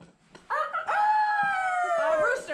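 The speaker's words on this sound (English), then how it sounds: "A rooster." A rooster crows once near an army annual training site at Fort Dix, giving a single long, drawn-out call that is loud and close and holds steady for about two seconds before trailing off.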